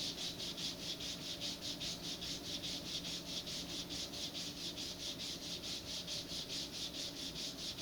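A wooden model rocket nose cone is sanded by hand, giving a steady rhythmic rasp of quick back-and-forth strokes, close and continuous, with no talking.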